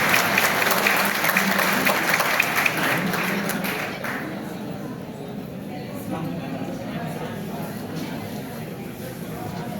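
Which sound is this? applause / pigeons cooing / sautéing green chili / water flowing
applause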